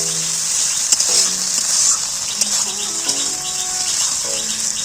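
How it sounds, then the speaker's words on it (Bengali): Steady loud sizzling fills the clip, with hissing and occasional light clatter from the pan as water is poured into hot oil. "এবারে আমি জল ঢেলে দেবো।"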